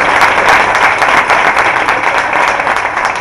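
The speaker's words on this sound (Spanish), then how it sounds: "Un aplausillo." Concert audience at Koppas applauding, a dense, steady wash of many hands clapping at close range that holds for the whole stretch without voices breaking through.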